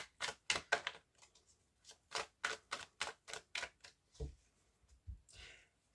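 Tarot cards are shuffled by hand in a quiet room, a run of crisp riffling flutters and soft slaps coming in quick bursts with brief pauses between them.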